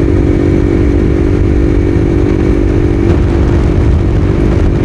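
A loud modified Bajaj Pulsar NS 200 motorcycle rumbles continuously at close range, a deep throaty exhaust drone that holds steady throughout.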